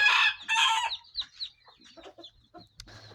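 A Shamo fighting-breed rooster gives loud, close clucking calls in a yard, followed by softer Shamo hen clucks and chatter, with a sharp high peep near the end.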